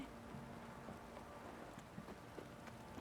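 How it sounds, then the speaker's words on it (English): Steady, dense rain patters down in a heavy downpour in the video game The Witcher 3: Wild Hunt, a constant hiss with scattered drops and faint low rumbles underneath, no voices. "This downpour's a bastard"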